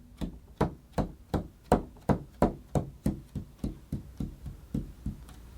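Steady soft tapping in an even walking rhythm: fingers tapping on a table to imitate footsteps, about a dozen thumps on a hard surface, close and gradually getting quieter, no voices.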